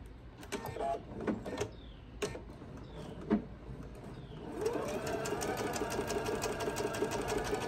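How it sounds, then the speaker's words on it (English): A few sharp ticks and clicks give way to a sewing machine stitching a diagonal line corner to corner for binding, its motor whirring steadily and close for the last few seconds. "now we're going to sew on that line diagonally from corner to corner"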